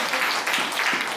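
Applause from a small group, steady clapping filling the whole moment without pause, fairly close.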